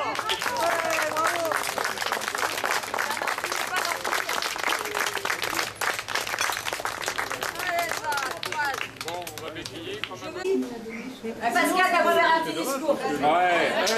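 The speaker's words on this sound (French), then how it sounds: "Merci pour les applaudissements!" Crowd applause and clapping at a stage stop of a touring event in Cholet, steady beneath lively chatter and voices, with speech rising clearly toward the end.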